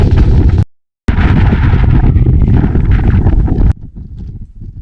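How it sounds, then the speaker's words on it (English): Loud gusty coastal wind near John o' Groats buffets the microphone, a heavy roaring rumble that briefly cuts out, then continues before easing to softer gusts. "It's very windy."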